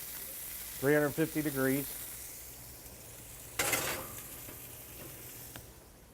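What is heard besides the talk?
meat searing in a hot skillet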